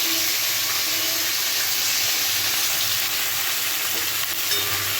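Potatoes and onions dropped into hot oil tempered with nigella seeds and green chilli, giving a dense, continuous hissing sizzle at close range, fairly loud and steady with no voices.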